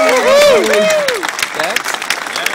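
Applause from an auction audience, a brisk patter of clapping rising beneath an auctioneer's voice and continuing steadily as the speech fades.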